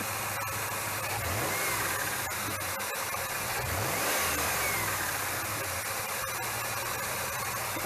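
A 2000 Ford F150 with a knock, after a number 5 coil pack change, runs outdoors with a steady, fairly quiet engine hum and a few mild revs rising and falling.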